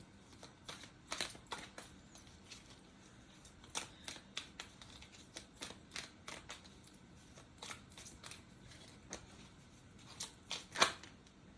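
Astrology cards being shuffled, crisp riffling flicks and taps in quick irregular bursts, soft and close in a quiet room, with a sharper snap near the end.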